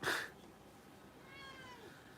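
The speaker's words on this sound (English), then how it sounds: "I just heard him meow" A pet cat meows once, faintly and from a distance in a quiet room, a brief rising-falling cry after a short rustle.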